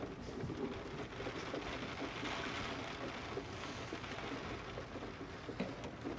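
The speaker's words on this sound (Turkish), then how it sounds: "Sema Hanım, bakın yağmur iyice şiddetlendi." Heavy rain pours steadily in a broad, even hiss with scattered drip and patter accents and a low rumbling undertone, moderately quiet and continuous with no voices.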